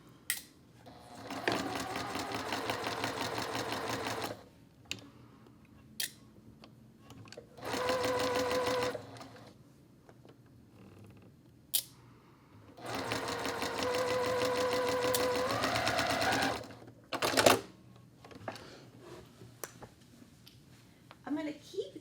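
A sewing machine stitches a quarter-inch quilt block seam in three sustained runs of whirring, with quiet gaps and small clicks between bursts and faint background hum.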